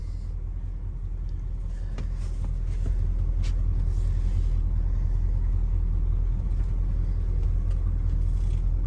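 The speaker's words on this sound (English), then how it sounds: "gonna take our first test drive since we overhauled the carburetor" A car's engine rumbles steadily at low pitch while driving on a test run after a carburetor overhaul, the drone growing a little louder partway through with faint cabin noises.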